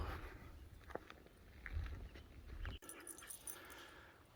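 A dog panting near the trailhead of the Wall Lake Trail in the Flat Tops Wilderness, soft rapid breaths with faint movement noise outdoors.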